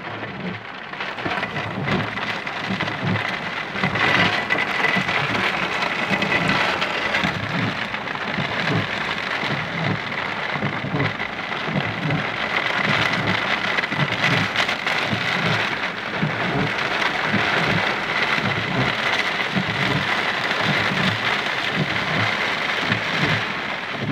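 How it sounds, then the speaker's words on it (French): Heavy rain pours steadily during a moderate thunderstorm in Livron, Drôme, with low rumbles of thunder rolling beneath the dense, constant hiss of rainfall throughout. "c'est de la pluie!"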